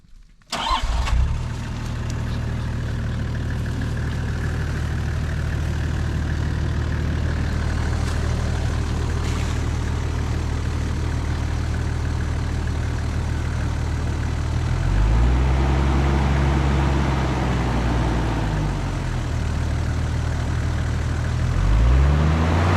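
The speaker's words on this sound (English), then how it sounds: "turn on the engine." A Toyota HZJ78 Land Cruiser engine cranks and starts, then idles steadily with a low rumble, revving up a couple of times near the end; no one speaks.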